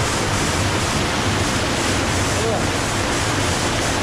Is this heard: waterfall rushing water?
yes